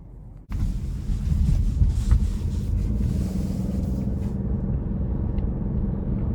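A 2021 Buick Encore GX Essence with its turbocharged 1.3-litre engine pulls away on a road test drive, a loud, steady low rumble building after a brief quiet start and holding on without talk.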